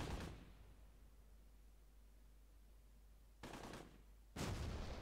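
Gunfire from the war game Close Combat Gateway to Caen. Bursts of shots come at the start and end of the clip, with a quiet gap between them. The sound is faint and distant, with no voices.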